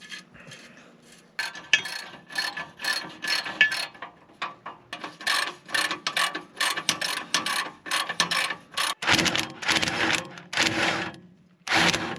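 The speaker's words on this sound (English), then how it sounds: "leave these all loose until I get it all bolted up, and then I'll tighten everything down" Ratchet wrench tightening bolts on a tiny off-grid cabin build, heard as repeated bursts of fast mechanical clicking with short pauses between strokes, fairly close and moderately loud, with no talk.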